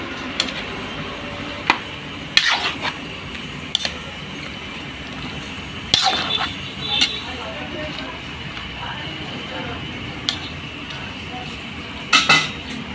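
Pakbet vegetables are stirred in a metal cooking pan, with sharp intermittent clanks and scrapes of a utensil against the pan over a low steady background, close by.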